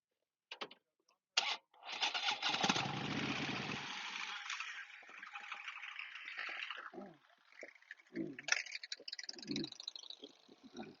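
A motorcycle engine revs up and pulls away from a stop during riding practice, a rising steady drone after brief starts, then fading into rattly idle as people talk over it.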